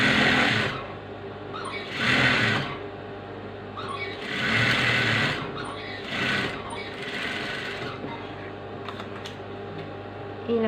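A sewing machine stitches the outline of a frock in several loud, whirring bursts of a few seconds each, separated by short pauses.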